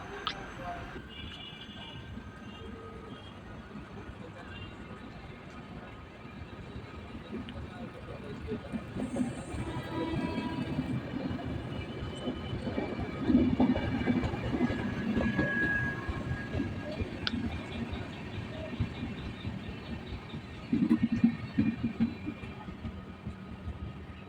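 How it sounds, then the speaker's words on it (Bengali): An express train rumbles and clatters, gradually growing louder as it starts moving again after a signal stop near Bally station, with occasional clanks and a faint squeal; a voice is briefly heard. "আবার সিগনাল পেয়ে ধীরে ধীরে চলা শুরু করলো"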